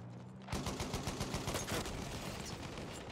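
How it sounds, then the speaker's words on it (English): Rapid automatic gunfire from a fast-firing weapon in the video game Battlefield 1 starts abruptly and carries on as a steady, loud burst of close, evenly spaced shots with no talking over it. "A very fast gun."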